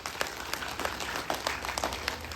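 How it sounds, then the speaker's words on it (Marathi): An audience at a yoga camp breaks into loud, sustained clapping, a dense crowd applause that holds steady throughout. "सगळ्यात जोरदार टाळ्या अभिनंदन करायचं."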